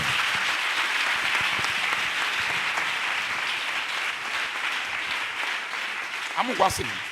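Church congregation applauding steadily in a broad, continuous wash of clapping, with voices mixed in and a brief louder cry rising near the end.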